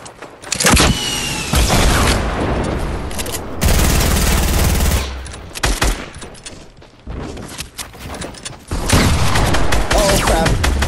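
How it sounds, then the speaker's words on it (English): Rapid bursts of loud gunfire crackle in a battle royale video game, including sniper shots, with dense volleys separated by short lulls and sharp individual cracks, close and intense. "We're being sniped at though."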